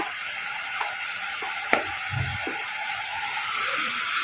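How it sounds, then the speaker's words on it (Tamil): Steady hissing sizzle of vegetables sautéing in ghee with ginger-garlic paste in a pan, with occasional clinks and scrapes from stirring. "நெய் சேர்த்து நம்ம வடக்கி விட்டுக்கலாம்"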